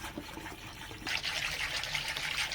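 Doogh, a thick Afghan yogurt drink with mint, poured in a steady liquid stream that swells to a fuller, louder pour halfway through, close and without talk.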